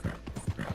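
A horse gallops in the Red Dead Redemption 2 video game, a quick run of close, rhythmic hoof clops over a short moment.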